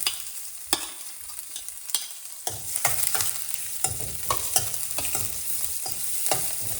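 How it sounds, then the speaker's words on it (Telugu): Onion, curry leaves and garlic frying in hot oil for a Rayalaseema-style pachi pulusu, a steady close sizzle broken by repeated sharp scrapes and clacks of a spoon stirring the pan, with no talking. "ఇది బాగా వేగాలి ఆనియన్."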